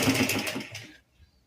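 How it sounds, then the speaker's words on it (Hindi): A sewing machine stitches a salwar in a brief close burst of rapid mechanical chatter that stops after about a second, followed by quiet. "हम सिलाई मार रहे हैं।"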